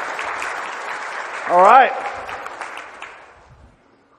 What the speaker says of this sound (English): Will you give them a big round of applause?